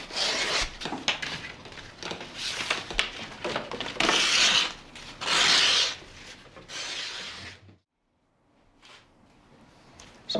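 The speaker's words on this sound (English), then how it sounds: "Every basket that I do, it's all hand scraped." Wood splints being hand scraped for basket weaving, close rasping strokes in an uneven rhythm, some long and loud, followed by a brief pause and fainter scrapes.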